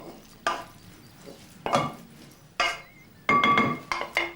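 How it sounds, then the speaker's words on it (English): Egg and cooked onions stirred together in a bowl, heard as a few separate bursts of wet scraping and clinking of utensil against the bowl, close and fairly quiet, with short pauses between strokes. "Add 1 egg and mix it in."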